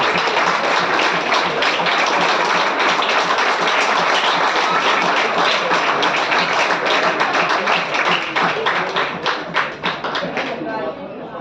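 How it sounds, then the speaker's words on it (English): A crowd at a squash tournament prize ceremony claps steadily after a trophy presentation, the dense applause thinning into scattered, distinct claps and fading toward the end. "Round of applause."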